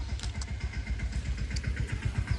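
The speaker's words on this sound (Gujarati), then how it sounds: "પટેલ આવે છે એનું ટ્રેક્ટર લઈને" A tractor engine throbs nearby as it arrives, a low pulsing putter with fast regular beats, moderately quiet and steady, with no voices heard.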